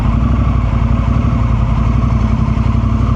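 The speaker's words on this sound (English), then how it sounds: "get a bit more footage of this beautiful exhaust" A 2024 Honda CRF1100 Africa Twin motorcycle exhaust burbles loudly and steadily up close, a deep pulsing idle with no voices.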